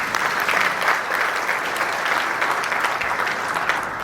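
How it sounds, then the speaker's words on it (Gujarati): A large audience at a family reunion gathering breaks into dense, continuous clapping that holds at a steady, loud level throughout. "તમે બધાએ તાળી પાડી"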